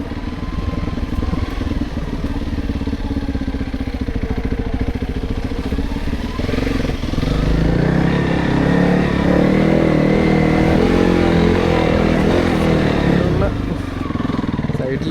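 Honda CRF 300L Rally motorcycle ridden on a wooded off-road track, its engine droning steadily throughout and growing louder and busier in the second half. A voice is heard over the engine.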